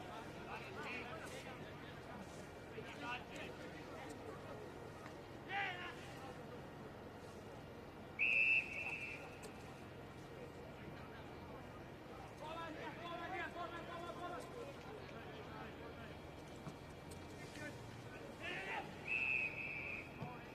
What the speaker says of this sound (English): Umpire's whistle.